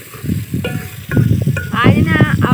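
Masala roasts in hot ghee outdoors, crackling and sizzling near the mic with stirring scrapes. Wind rumbles across the microphone, and a voice is briefly heard in the background.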